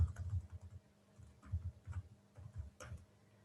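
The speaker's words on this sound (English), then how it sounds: "I can type in a text box and start typing." Quiet, close keystrokes tap on a computer keyboard in short irregular bursts, with brief pauses between clusters of typing.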